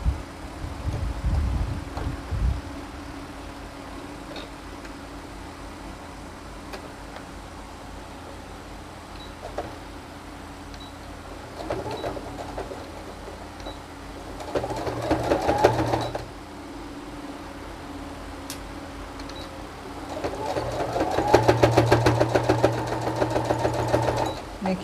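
A sewing machine runs in several bursts along the edge of a wrap skirt, each stretch of stitching a steady, close whirring hum separated by quieter pauses and handling noise.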